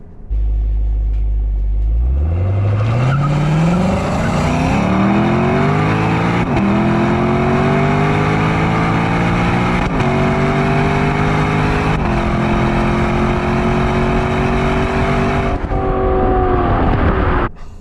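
A Lexus LC500 V8 engine roars loudly as it accelerates, its pitch climbing and dropping back with each of several upshifts, sustained and close.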